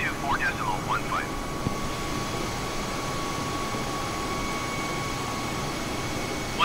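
Steady, loud Airbus A320 engine drone heard from inside the cabin on a night flight from Los Angeles to San Francisco in rain, a constant broadband roar with a faint high whine, briefly overlaid by short electronic chirps at the start.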